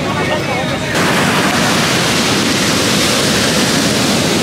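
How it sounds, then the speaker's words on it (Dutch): High sea waves crash on a beach, a loud, broad, continuous roar of surf that swells after the first second and fills the clip. "Het ziet er prachtig uit, die hoge golven."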